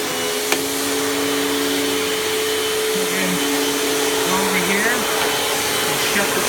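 A Panasonic MC-UG589 upright vacuum cleaner runs with a steady, close motor whine and airflow hum, continuous throughout with faint background variations.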